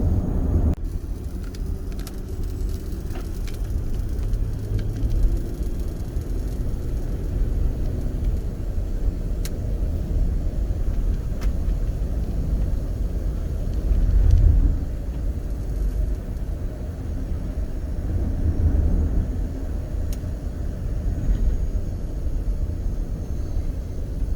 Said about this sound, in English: Traffic is getting worse, that's for sure.